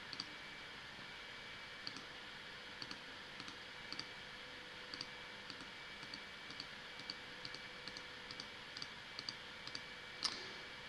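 Computer mouse clicks while shaping a polygon in software, a series of small sharp clicks spaced irregularly, sometimes in quick pairs, over a steady faint background hiss.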